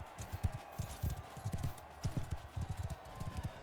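Horse hooves clip-clopping in the battle game Mount & Blade II: Bannerlord, a quick run of rhythmic thuds at moderate level, close up and without talking.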